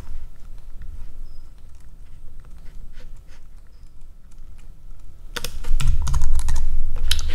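Typing on a computer keyboard while building a ServiceNow Service Portal widget, a quick run of close, clicky keystrokes that starts light and grows into a louder, denser burst toward the end.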